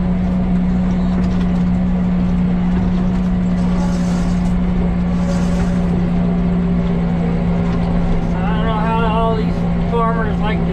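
A tractor engine runs steadily while mowing, a constant low drone and hum that holds loud and unbroken throughout, with faint higher tonal sounds near the end.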